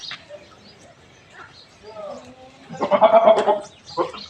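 Goats bleat, one loudly and briefly near the end, after quieter scattered bleats and faint rustling in an otherwise calm setting on a goat farm.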